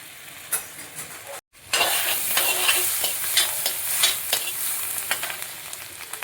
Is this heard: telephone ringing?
no